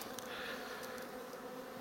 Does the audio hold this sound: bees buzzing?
yes